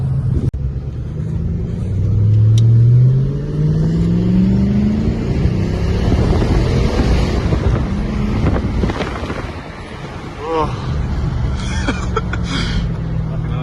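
A Holden Calais fitted with a new motor pulls away and drives, its engine note rising through low gear changes under steady wind buffeting on the microphone, with brief speech partway through.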